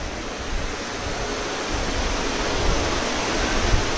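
Heavy rain falls in a dense, steady hiss that fills the whole clip, loud and continuous with no talk, during an outdoor Shiv Mahapuran katha gathering in Gurugram.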